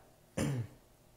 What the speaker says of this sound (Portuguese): me deu uma tosse, garganta ficou seca